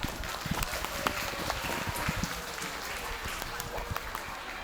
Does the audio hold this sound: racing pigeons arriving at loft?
no